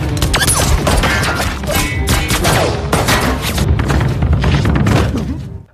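Rapid gunfire bursts from a weapons warehouse in a Korean gangster film, dense, loud and continuous, with thuds and crashing impacts mixed among the shots for nearly six seconds.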